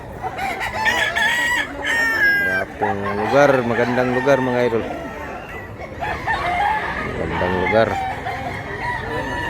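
Roosters crow repeatedly and chickens cluck close by at a crowded rooster market in Mantalungon, Cebu. The birds are loud and overlapping, with someone talking over them throughout.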